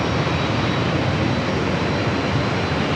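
Steady broadband roar of a Boeing 787 Dreamliner jet taking off from runway 27 at San Diego airport, loud and continuous throughout with no voices.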